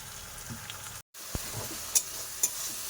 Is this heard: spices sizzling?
yes